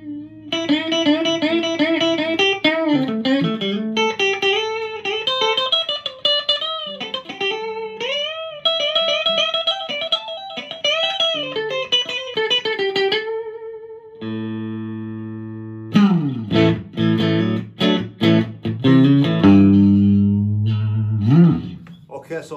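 Clean electric guitar notes and chords from a used Yamaha Pacifica PAC1511MS Mike Stern Signature ring out with bright, sustained tone, playing melodic runs, a brief pause, then strummed chords, close and fairly loud.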